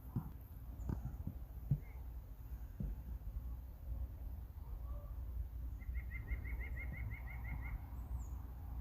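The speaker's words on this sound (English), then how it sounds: "Okay, I can hear this nuthatch again." A rapid series of high, nasal calls from a white-breasted nuthatch repeats about a dozen times, moderately distant, over steady outdoor background noise.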